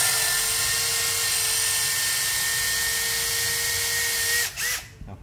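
A Makita DDF083 cordless drill runs at steady high speed with a constant whine that stops abruptly near the end and spins down.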